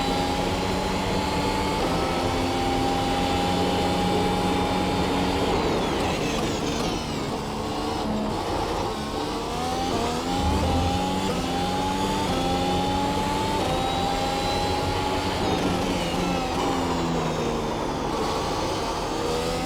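A Mercedes W12 Formula 1 car in the iRacing simulator drones steadily at high revs, its engine pitch climbing through the gears and dipping at shifts, loud and constant with no talking.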